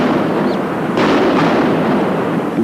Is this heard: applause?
no